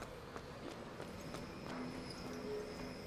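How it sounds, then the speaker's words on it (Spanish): Faint, steady clip-clop of mechanical horse hooves in BioShock Infinite, an even rhythmic gait sitting under a continuous ambient hum. "Más caballos de estos mecánicos"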